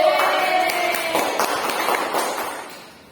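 Classroom pupils clap their hands together in a quick burst of applause during a fractions lesson, a dense patter of many claps that tapers off over a few seconds.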